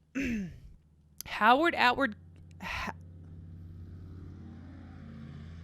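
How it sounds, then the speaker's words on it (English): A loud car passes outside during a podcast recording, a rising broadband rumble that follows a few seconds of close talking and keeps droning steadily to the end. "A really loud car just drove by."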